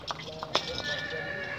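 Horse neighing in a short, close whinny over soft hoof clops, moderately loud, with no talk.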